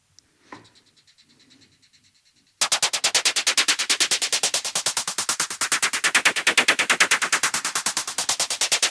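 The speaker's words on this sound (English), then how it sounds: "Let's hear just the part, hi-hat part." A hi-hat part from a modular synth techno patch enters after a brief quiet moment with faint scattered noises, then ticks in a fast, even stream of crisp, bright hits that stay loud and steady.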